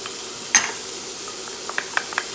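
Diced onions sauté in a pan for a vegan paella, giving a steady soft sizzle with a sharp clink near the start and a few light scraping taps from stirring later on. No one speaks.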